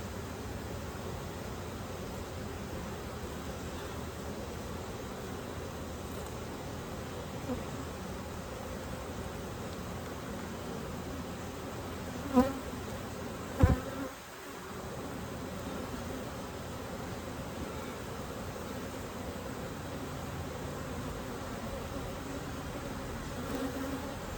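A steady, dense buzz of many honey bees hums throughout, with a couple of brief scraping clicks of comb being scraped and a short dip partway through.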